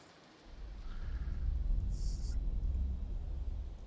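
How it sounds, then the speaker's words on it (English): Steady rain with a low rolling rumble of thunder in a Fallout 4 game world, a dense wash of drops swelling in after a brief quiet start and holding at moderate level. "the ambiance, the thunder sound, the creaking of the trees"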